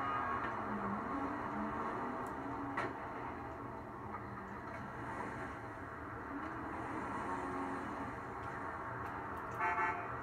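Stock horn of a Vapid Sadler 5.4 W/T 4x4 pickup truck in a video game, sounding as a sustained, fairly steady honk over engine rumble, moderately loud and close.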